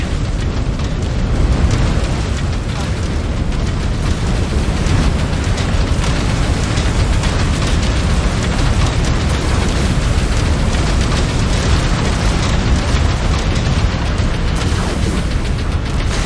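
Mech explosions and heavy impacts in MechWarrior 5 Clans, a dense, loud, continuous roar of blasts and rumbling with no gaps, no voices.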